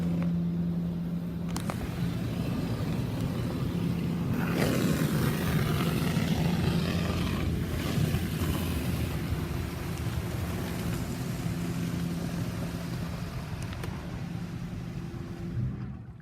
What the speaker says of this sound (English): Guess it's doing another pass of a high power rinse.